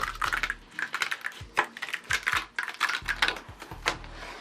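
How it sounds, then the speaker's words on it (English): An electronic cutting machine slices out paper houses for a mixed media art maze, giving quiet, irregular clicking and tapping bursts with a low motor hum underneath, heard alone. "using a quick cut to cut out 60 precise identical houses is not cheating"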